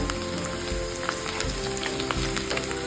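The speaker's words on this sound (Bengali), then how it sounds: "পেঁয়াজটা একটু ভাজা ভাজা হয়েই গেছে" Onion fries in hot oil in a pan, giving a dense, even sizzle with small crackles throughout, close and fairly loud, no voices.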